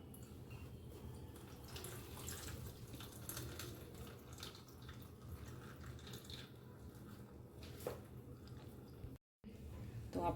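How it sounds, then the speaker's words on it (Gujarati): Whey water drains from freshly made homemade paneer, a faint, steady trickle and splash of liquid running for several seconds in a quiet kitchen. "હવે આપણે આમાંથી બધું પાણી નિતારી લઈશું"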